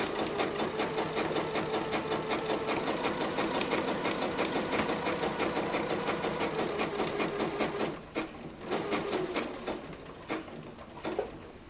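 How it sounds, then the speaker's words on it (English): A sewing machine stitches knit fabric and elastic for sweat shorts, a fast continuous mechanical whir for about eight seconds, then a brief stop and a few shorter bursts of stitching. "And then I stitch down again."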